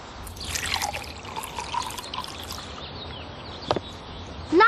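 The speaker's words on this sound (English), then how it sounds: "Pour some water into a bowl full of cotton balls." Water is poured into a bowl full of cotton balls, giving a soft, close trickle and gentle dripping that fades and then returns briefly near the end.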